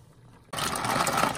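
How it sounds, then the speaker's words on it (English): Pasta dropped into a pot of boiling water at home, the quiet kitchen suddenly giving way to a loud, steady hissing roar of bubbling water. "My water is boiling, so I'll add that pasta."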